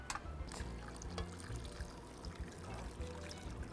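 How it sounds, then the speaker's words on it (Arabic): Meat broth is poured onto rice in a cooking pot, giving a soft, quiet liquid trickle with small splashes. The pour runs continuously for a few seconds at close range, with no talking. "وبعديها رح ننزل ميه اللحمه"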